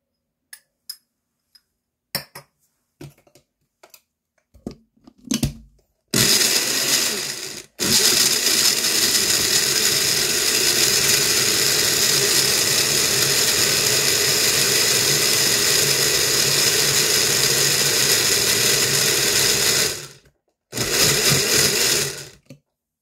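A kitchen blender grinds ingredients for radish water kimchi, starting after a few scattered knocks and then whirring loudly and continuously for about thirteen seconds before stopping, followed by a short final burst.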